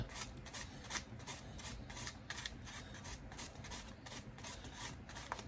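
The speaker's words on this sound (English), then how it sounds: "we're just going to do a little sanding on the head here" Rapid, rhythmic scratchy rasping of sandpaper rubbing the head of a painted figure, close and steady, with no speech.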